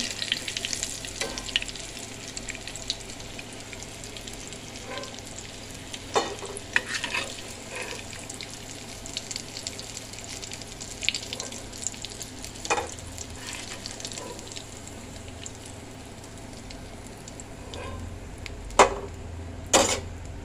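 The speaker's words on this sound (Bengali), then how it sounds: "তো বড়াগুলো ভাজা হচ্ছে, একটা একটা করে ভাজা তুলে নেব।" Lentil fritters (bora) fry steadily in oil with a low, continuous sizzle, marked by occasional clicks and scrapes of a utensil against the pan, and one sharper knock near the end.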